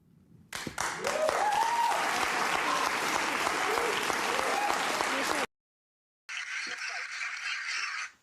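Loud, sustained audience applause at a political event fills the room for about five seconds, then cuts off briefly and resumes as a second burst of clapping, with some crowd noise mixed in.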